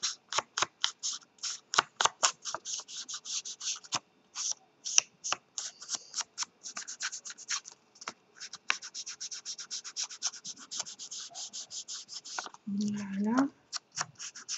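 Paper being cut with scissors for a junk journal: a long run of crisp, rapid snipping strokes close by, steady at first and sparser later, with a short burst of soft speech near the end.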